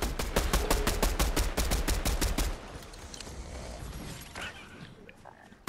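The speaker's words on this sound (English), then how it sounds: "someone shooting" Rapid, evenly spaced gunshots in Fortnite Battle Royale fire loudly for a couple of seconds, then give way to quieter rumbling game sounds with scattered clatter.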